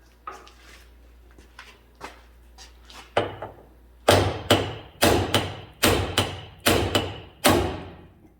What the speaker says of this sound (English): Put pressure on it and hit it with a hammer.